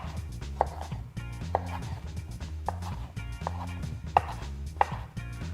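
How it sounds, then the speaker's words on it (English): A knife chops tomatoes on a cutting board in about six distinct, evenly spaced thuds, close and clear, over a low background hum. "you can cut the tomatoes in little smaller pieces"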